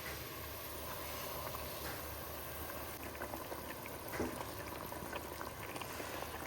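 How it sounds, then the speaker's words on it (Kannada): A pot of fish head curry bubbles at a steady, moderate boil, a continuous close simmer with occasional small pops and no talking. "ನೋಡಿ ಚೆನ್ನಾಗಿ ಕುದೀತಾ ಇದೆ"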